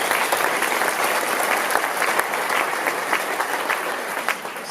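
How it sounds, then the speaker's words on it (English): An audience at a city inauguration ceremony in Compton claps in a sustained, dense round of applause, loud and close, tapering slightly toward the end. "So give a round of applause for the Lord."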